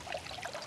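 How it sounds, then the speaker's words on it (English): Water squeezed from a hat soaked in ice water, a brief close trickling and pouring splash with no voices. "Look how much water I'm wringing out of here."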